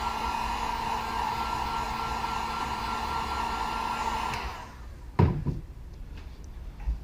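A heat gun or hair dryer blows a steady, loud whooshing roar as it dries paint on a handmade topwater fishing lure, then cuts off, followed by a few close clunks and handling knocks.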